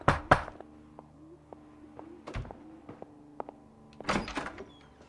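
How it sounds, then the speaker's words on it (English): Knocks on a neighbor's apartment door in the 1940s Los Angeles detective game L.A. Noire: a couple of sharp raps, then a sparse series of soft thuds and clicks, and a final cluster of knocks, with faint background hum and no talk. "we're gonna go and knock on some of the neighbors' doors"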